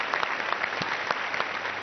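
Audience applause for a brass band after a stage comedy skit, a steady wash of many hands clapping throughout, loud and close with no talk over it.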